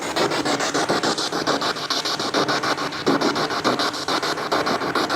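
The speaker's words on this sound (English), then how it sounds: "Come and talk through the spirit box." A spirit box radio sweeps through stations, producing loud continuous white-noise hiss chopped by rapid, regular scanning pulses that run without pause throughout.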